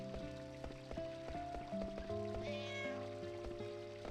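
A cat meows in the PS1 video game Final Fantasy IX, a brief rising cry over steady game music with rain-like patter underneath.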